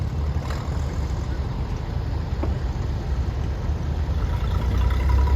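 A Minneapolis Moline G1000 propane tractor rolls past in a parade of power at an annual show, giving a loud, steady low engine rumble mixed with outdoor noise.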